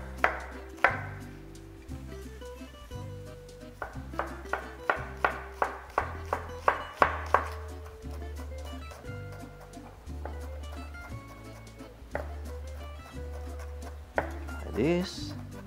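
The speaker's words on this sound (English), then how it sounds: "now because we have a lot of tomatoes, we're gonna chop this other half too." A knife chops through tomatoes on a cutting board while making Italian tomato sauce, striking in quick rhythmic bursts of sharp close knocks, then pausing and resuming in slower, scattered cuts.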